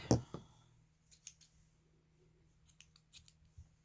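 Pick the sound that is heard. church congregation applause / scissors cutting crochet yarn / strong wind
scissors cutting crochet yarn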